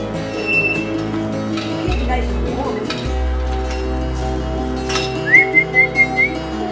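A person whistles a few short, high, clear notes, brief and then a quick run of bright tones near the end, over a steady low hum of background noise.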